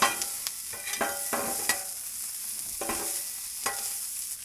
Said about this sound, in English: I'm just going to mix this broccoli up, get some oil on it all over.